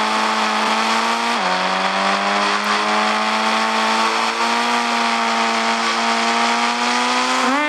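A loud car engine revs steadily in a video game with a strong droning tone, dropping briefly in pitch before climbing again.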